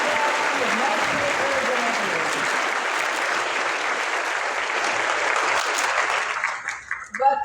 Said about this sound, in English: let's take a moment to give a big round of applause to all of our working groups